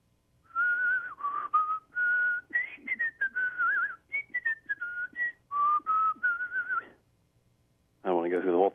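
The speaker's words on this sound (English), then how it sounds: "Can you remember any of the tune that you whistled in that commercial?" A person whistles a remembered commercial jingle, a bright melodic line in short phrases with brief pauses, close and clear, ending with a short burst of something else after a gap.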